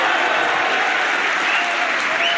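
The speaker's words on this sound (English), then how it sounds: "Look at the crowd, they're going wild." A snooker crowd at the 2022 Turkish Masters applauding Judd Trump's 147 maximum break, a loud, dense, unbroken wall of clapping that fills the hall, with cheering voices mixed in.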